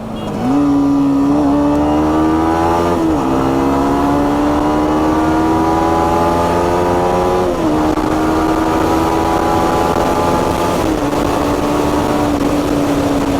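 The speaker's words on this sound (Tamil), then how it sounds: "நான் டவுன் ஷூட் பண்ணுறேன், உங்களுக்கு அந்த இன்ஜின் தெரியுது, அந்த சவுண்ட் தெரியுதா, RPM." A Yamaha MT15 BS6 motorcycle engine revs, climbing in pitch, dropping at each downshift, then climbing again, loud and close with no talking.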